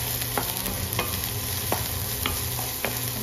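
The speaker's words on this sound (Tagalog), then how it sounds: "So, isunod na natin yung ating sibuyas. So, halu-haluin lang." Garlic and onion sizzle steadily in a pan while a spoon scrapes and stirs them at irregular intervals, close and continuous with no talking.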